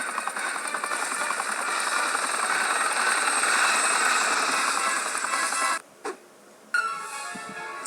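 Helicopter in the Spider-Man 2 video game, a steady loud rotor and engine drone with rattling texture that holds for most of the stretch, then cuts out abruptly near the end, leaving brief quiet with faint blips.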